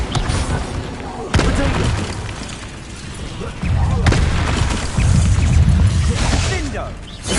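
Confringo and Bombarda spell blasts from the Hogwarts Legacy video game burst out in a few heavy, booming hits over a dense layer of combat noise, while a voice shouts over the action.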